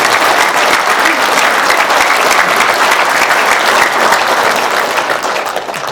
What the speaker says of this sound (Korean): 여러분 한번 다시 한번 박수.